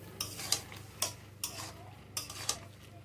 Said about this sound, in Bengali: এবার এটাকে ভালো করে নাড়িয়ে নিয়ে ঢাকা দিয়ে দেবো, সিমগুলো একটু সিদ্ধ হবে।